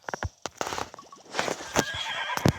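A horse in the video game Horse Valley gives a short whinny among scattered hoof clops and soft thuds, moderately close and with no talking.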